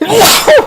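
A single loud, close sneeze with a sharp burst, followed by a brief voiced exhale or exclamation.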